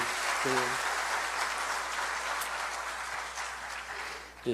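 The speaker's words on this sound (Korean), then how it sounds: "우리 수고하는 전도사님하고 우리 여러분께 박수 한번 보내주세요" A church congregation at a revival testimony service gives the evangelist a steady, full round of clapping, moderately distant and even throughout, with a brief voice near the start.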